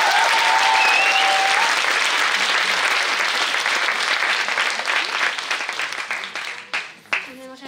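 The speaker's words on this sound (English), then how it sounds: "et on peut vraiment les applaudir." A theatre audience at a student musical production on a Nancy campus bursts into loud, sustained applause that fills the room, then thins out and fades toward the end.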